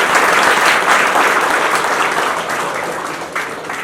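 A school audience applauds a student, a dense, loud burst of clapping that holds steady and tapers slightly toward the end, with no talking over it.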